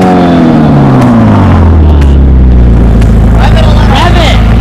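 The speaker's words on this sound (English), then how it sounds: "Rev it! Rev it!" Car engine starting and revving loudly, a deep low rumble that swells and climbs in pitch across the clip, with excited voices shouting over it.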